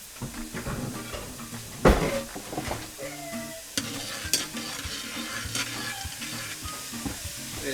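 A spoon stirs a pot of boiling water with baking soda and molasses for gluten-free bagels: steady scraping and swishing over a bubbling simmer, with a few sharper clinks against the pot.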